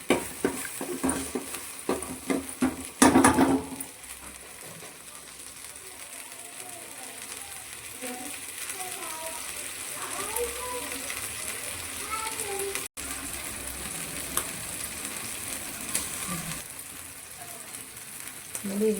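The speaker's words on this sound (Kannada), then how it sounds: "ಇವಾಗ ನಾವು ಫ್ರೈ ಮಾಡ್ಕೊಂಡಿರುವ ಫಿಶನ್ನು ಸೇರಿಸ್ಕೊಳ್ಳೋಣ" Fried sardines dropped into hot, oily masala in a pan: a loud clatter and sizzle up front, settling into a softer steady frying crackle while a person talks throughout.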